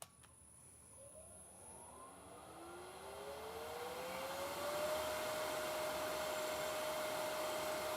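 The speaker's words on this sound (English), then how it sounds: "use this piece of wire between 2 handles, get it into that V-cut, and with some down pressure we'll get friction" A wire held between two handles is pressed into a V-cut on a hollow wooden vessel spinning on a lathe, producing a steadily rising whine and hiss of friction that settles into a sustained tone, with the lathe's drone underneath.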